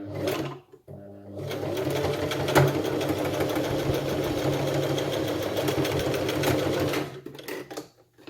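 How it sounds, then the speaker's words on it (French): Sewing machine running steadily for several seconds as it stitches closed a flat fabric comforter toy made of slightly furry cloth, loud and close, stopping at the end. "Moi, je referme à la machine."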